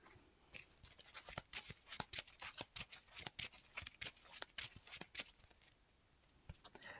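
Playing cards are shuffled for a Marvel card game, with sharp, quick riffling clicks and snaps in rapid bursts, near and fairly quiet, fading near the end.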